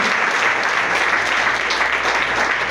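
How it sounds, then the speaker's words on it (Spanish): A church congregation applauds loudly and steadily, a dense wash of clapping that holds at full strength from start to finish with no voices standing out. "Den un fuerte aplauso al Señor Jesucristo."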